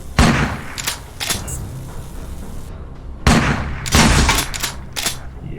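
Loud, booming shotgun blasts in the video game Underrail, a few heavy shots with long ringing tails and a short pause between the first and later blasts.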